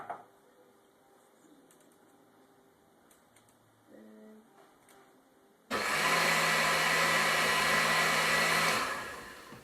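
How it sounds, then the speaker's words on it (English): A blender blending corn and milk roars on loudly for about three seconds, then winds down, after a quiet stretch with faint clicks and a soft bird coo. "We're going to blend about half a liter of corn and half a liter of milk"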